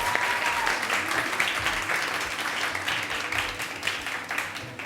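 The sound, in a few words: studio audience applause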